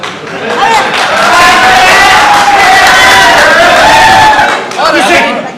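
Live Punjabi stage drama audience in a hall, a loud, sustained mass of crowd noise with clapping and cheering that swells and holds for several seconds, dipping briefly near the end before rising again.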